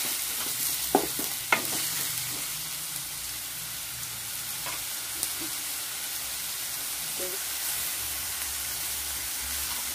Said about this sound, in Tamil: இது தக்காளி நல்லா வதங்குறதுக்கு மட்டும்தான்